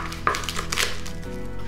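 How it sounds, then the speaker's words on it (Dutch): An onion being chopped with a knife on a board for shakshuka, a few sharp close cuts with knock-like clatter, alone without speech. "als eerste dus met snijden van het uitje"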